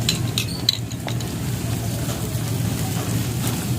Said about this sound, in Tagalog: Gigisa pa natin to ng kaunti